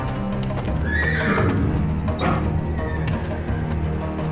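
Nervous horses whinny and neigh in a stable scene from the game Secret Files 3, a couple of shrill rising calls over low snorting and hoof shuffling, close and fairly loud.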